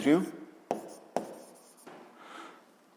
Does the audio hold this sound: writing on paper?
yes